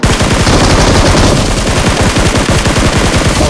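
Loud, close automatic gunfire in the PUBG video game, rapid rhythmic bursts of shots running continuously throughout with no talk.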